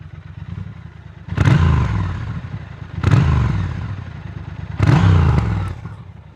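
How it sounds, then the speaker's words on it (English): A Triumph Scrambler 1200 X motorcycle revs its exhaust three times in evenly spaced, loud bursts, each rising sharply and then fading back to a rumbling idle, close by with no talk. "that exhaust test"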